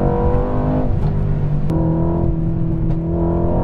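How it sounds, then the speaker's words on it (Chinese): Mercedes-AMG C63 S Coupe driving, a loud steady engine drone and exhaust note with a few sharp brief crackling pops, heard from inside the car with no talking. "还有打爆声哦！"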